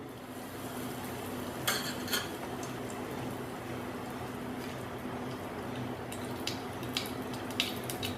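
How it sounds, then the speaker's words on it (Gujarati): Mustard seeds crackle in hot oil while a tomato-potato curry tempering is being cooked: a quiet, steady sizzle broken by a few sharp pops. "રાઈ ફૂટે એટલે એની અંદર ચપટી હિંગ નાખીશું"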